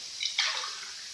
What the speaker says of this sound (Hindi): इस भगोने में मैं अभी 2 गिलास पानी डालती